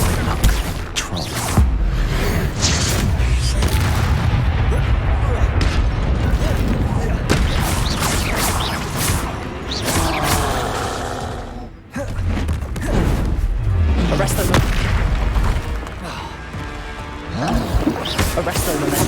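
A troll bellows in the game Hogwarts Legacy amid loud combat, its deep growling roars mixed with booming impacts and spell effects. The din is dense and continuous, with a brief drop near the middle, and a voice talks at times.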